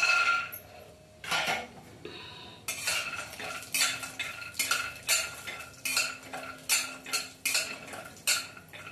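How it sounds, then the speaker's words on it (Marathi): Peanuts and dry fruits are stirred in a pan with ghee, with repeated metallic scrapes and clinks of a spoon coming in a steady rhythm, close and fairly loud, over a faint sizzle. "हे आपले ड्रायफ्रूट आहे आणि शेंगदाणे भाजून घ्यायचे आपण।"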